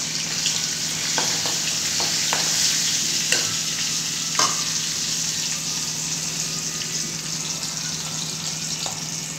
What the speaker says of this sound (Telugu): నేను చిక్కుడుకాయ ఫ్రై చేస్తున్నాను